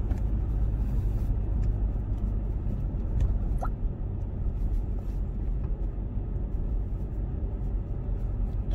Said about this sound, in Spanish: Y aquí tiene mucho tráfico